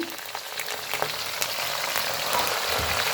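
Dried red chillies hit hot oil for a homemade chilli pickle and crackle in a steady, bright sizzle that swells slightly over three seconds, close and continuous with no voices.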